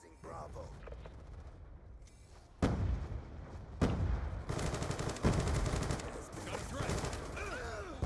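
Rapid bursts of video-game gunfire, automatic rifle rattles and single shots in close succession, loud and near, with a player talking over the action.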